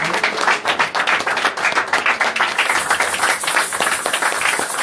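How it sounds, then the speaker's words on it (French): A church congregation at a Sunday worship service claps together in sustained, lively applause, with many hands producing a thick, continuous patter that stays loud for the whole stretch. "Acclamons pour la gloire de Dieu"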